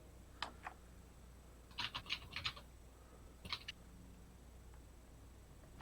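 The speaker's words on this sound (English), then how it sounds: "I hear him typing" Faint typing on a computer keyboard at a distance, scattered clusters of a few quick key clicks separated by quiet pauses over steady background hiss.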